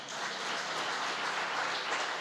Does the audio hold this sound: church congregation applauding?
yes